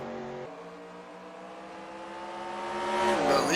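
Race cars lapping at North Wilkesboro give a steady, loud engine drone with layered pitch tones that climbs as the cars accelerate, swelling toward the end.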